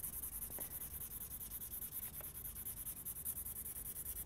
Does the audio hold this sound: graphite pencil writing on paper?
yes